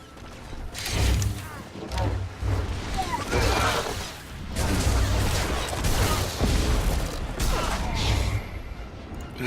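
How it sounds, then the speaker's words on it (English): Blaster fire in Star Wars: The Old Republic, irregular loud volleys and crashing impacts crowding a busy hangar battle scene. "Sounds like there's more shooting around here."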